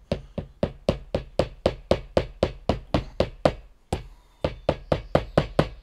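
Ferrum Forge Stinger button-lock folding knife getting its spine whacked against a hard surface, a rapid run of about twenty sharp, loud knocking impacts in steady rhythm with a brief pause near the end, no talking.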